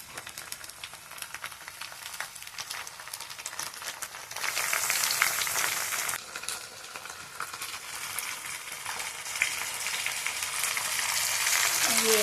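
Onions, garlic and tomatoes fry in a pan at home, a soft steady sizzle that grows louder and denser about halfway through, continuing without talk.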